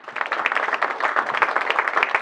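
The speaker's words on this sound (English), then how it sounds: "So make sure we give her a big round of applause" An audience at an evening county meeting applauds a speaker who has pushed for cannabis across the county; dense, steady clapping fills the moment, close and even, with no talking over it.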